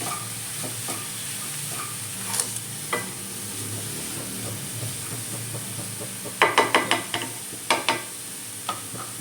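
A spatula stirs a spiced sugar mixture in a pan, making a soft steady sizzle with sharp clustered scraping taps toward the end.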